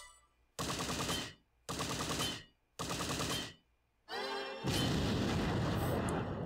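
A fire attack lands in the Bravely Default battle against Braev the Templar, four loud rapid bursts of crackling blasts separated by short gaps, the last swelling into a sustained roaring whoosh, with no talking.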